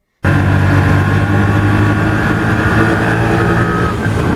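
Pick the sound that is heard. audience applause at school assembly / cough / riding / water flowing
riding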